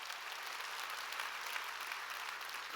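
A church congregation claps together during a sermon, producing an even, sustained patter of many hands. It sounds muted and somewhat distant, with no voices above it.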